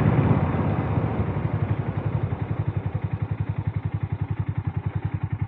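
A Harley-Davidson X440 single-cylinder motorcycle cruising in sixth gear at about 45–50 km/h, its engine thumping in a steady, rapid pulse that grows more distinct, loud and close, with wind rush behind it.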